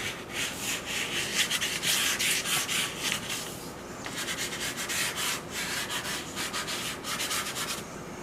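Soft pastel in navy blue being rubbed across paper to lay down a wash: a steady, close, dry scratchy rubbing in long back-and-forth strokes, with a short lull midway, no voices.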